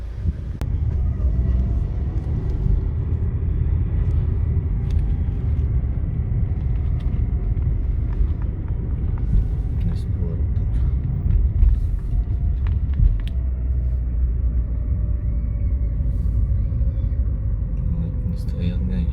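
A Lada Vesta 1.6 with a manual gearbox and freshly flashed M86 ECU idles after starting, giving a steady low engine rumble that runs unbroken while people talk over it.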